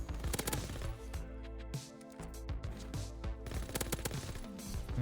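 Automatic gunfire in the video game Call of Duty: rapid, loud, close bursts of shots that break off briefly midway, then resume in sustained volleys.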